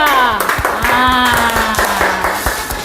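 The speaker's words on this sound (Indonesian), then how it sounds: "Coba tepuk tangan untuk kelompok 2." A classroom group claps in a quick, steady rhythm for a student team, loud and close, while voices chant or sing along over the beat.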